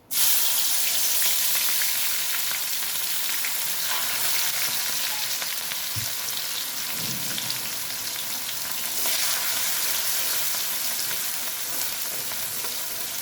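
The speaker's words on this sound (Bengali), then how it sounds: "তেলটা গরম হয়ে গেছে, তেলের মধ্যে দিয়ে দেবো।" Loud, constant sizzle of garlic and chilli frying in hot oil, close by and unbroken, with a couple of soft thuds from stirring.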